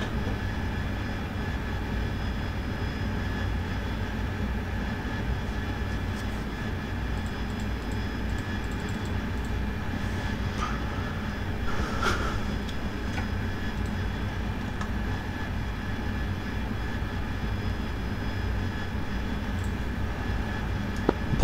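An AV-8B Harrier jet engine in a night bombing run in a flight simulator game, a steady broadband roar that holds at an even level throughout, with faint clicks and ticks scattered over it.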